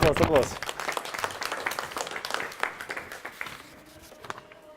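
An audience breaks into applause, a dense burst of clapping that starts loud and gradually thins and fades, with a voice speaking at the start.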